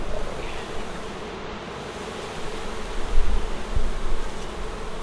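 Honey bees buzz densely and continuously around an open backyard hive during an inspection in North Port, Florida, a close, steady drone swelling slightly toward the end, with no talking.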